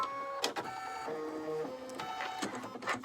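A home embroidery machine stitching white thread on a Christmas Santa doorhanger project, giving a busy mechanical chatter of rapid needle strokes with shifting whirring pitches and short motor bursts, close and steady, with no talk.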